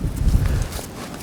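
An Arabian stallion's hooves stamping and scuffing on the ground as he fusses, a quick cluster of heavy close thuds followed by quieter shuffling.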